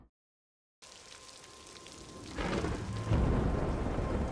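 Rain and thunder in a fantasy TV scene: after a brief silence, steady rainfall starts, then a heavy rolling thunder rumble swells in and keeps building as the downpour grows louder.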